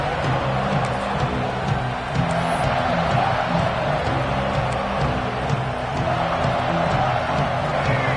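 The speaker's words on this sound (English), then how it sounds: "Listen to the crowd energy here in the early going." A stadium crowd at a college football game between Cincinnati and Georgia keeps up a steady, loud roar of cheering and whoops early in the game, with no breaks.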